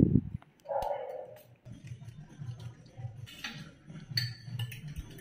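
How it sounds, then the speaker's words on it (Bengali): Eggs are beaten in a bowl with green chilli, salt and onion, giving light repeated clinks and taps of utensil on the bowl, close and fairly quiet. "প্রথমে কাঁচা লঙ্কা, নুন আর পেঁয়াজ দিয়ে ডিমটাকে ভালো করে ফেটিয়ে নেব।"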